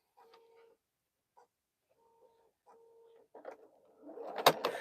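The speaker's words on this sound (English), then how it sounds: "Whoa, that needle broke." A sewing machine needle snaps mid-stitch while quilting: soft, intermittent tonal whirring gives way to a sudden loud, sharp crack and rattle near the end, heard close with no talk.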